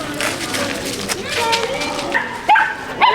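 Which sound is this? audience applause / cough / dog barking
dog barking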